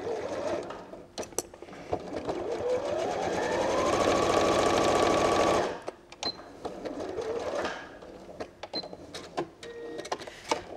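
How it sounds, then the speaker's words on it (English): A sewing machine runs along the bottom edge of a lined pouch, with a steady whirring stitch building for several seconds and then stopping, surrounded by scattered clicks and handling noises, close, no talking. "You simply sew along your bottom straight edge and leave a gap."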